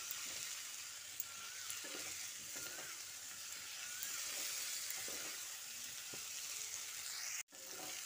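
Young jackfruit and potato sautéed in a pan give a continuous hissing sizzle with soft, irregular stirring scrapes underneath, a brief sharp knock near the end.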